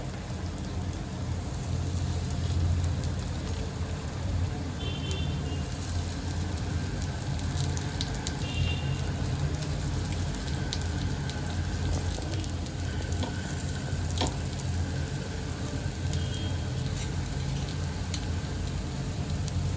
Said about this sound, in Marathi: तेल गरम झालंय आता ह्यात मी मच्छी जे तळायला सोडते मच्छीचे सगळे तुकडे मी टाकून घेते